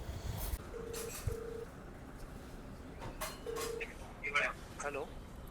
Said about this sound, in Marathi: ओके, सो चला मग कॉल करूयात आता.